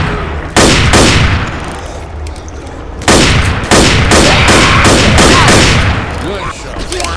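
Loud, dense gunfire fills a Death Toll video game match, with repeated bursts of automatic fire and heavy booming shots in rapid succession, layered with shouted voices.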